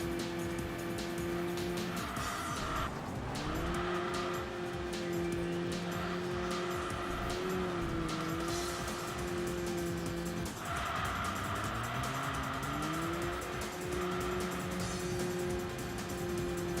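Race car lapping a track in the Enthusia: Professional Racing video game, with a sustained engine drone that rises and falls through gear shifts and repeated tire squeals in corners, loud and continuous with no talk.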